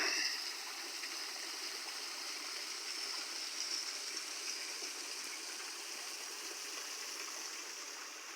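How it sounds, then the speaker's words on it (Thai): Steady rushing of a mountain stream swollen by rain, continuous broadband flow with no voices, moderately loud and even throughout. "ถ้ามาเบิ่งน้ำตกน้ำไหลจ้า"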